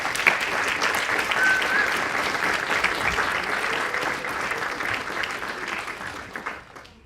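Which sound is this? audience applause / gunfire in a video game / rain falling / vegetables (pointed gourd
audience applause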